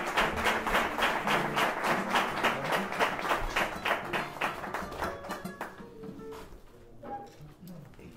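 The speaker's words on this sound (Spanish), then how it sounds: "Un aplauso por él." An audience applauds a flamenco singer at a heritage event in Córdoba, dense clapping that is strong at first and then thins and fades, ending in scattered claps and faint murmuring.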